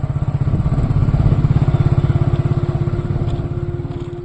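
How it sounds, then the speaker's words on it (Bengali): A motorcycle engine runs steadily at night along a quiet rural route near Kolkata, with a close, continuous rhythmic low chug that holds at an even level throughout, with no one speaking. "শুধু মাঝে মাঝে ঝিঁঝি পোকার ডাক আর বাইকের ইঞ্জিনের শব্দ।"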